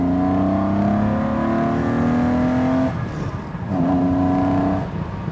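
A slightly warmed-up, largely standard Jaguar E-Type engine pulls hard, its rising drone climbing in pitch, dropping briefly at a gear change, then climbing again. The engine sounds close and strong.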